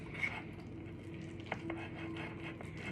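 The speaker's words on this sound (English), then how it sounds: "We get a good stir in there." A spoon stirs egg and pumpkin batter in a bowl, giving soft wet scraping and light clinks against the bowl, close and fairly quiet, with no talking.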